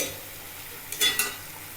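Tomato dropped into a hot pan while chicken rezala cooks at home, giving a brief sizzling burst with a second smaller flare, faint and close, over a low steady kitchen background.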